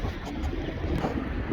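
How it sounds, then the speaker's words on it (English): Strong wind roars steadily at a truck stop in Lordsburg, New Mexico, blowing sand and dirt around. It makes a continuous low, rushing rumble with no voices. "it's super windy today."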